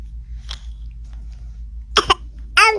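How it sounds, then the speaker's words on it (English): A young child coughs a few times, two quick close coughs followed by a longer throaty one, loud against a quiet room. "I'm coughing."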